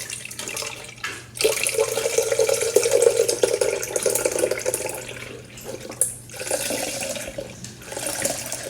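Almond milk pours into a NutriBullet blender cup in a close, liquid gurgling stream that starts, pauses briefly and resumes in short bursts, with no talking.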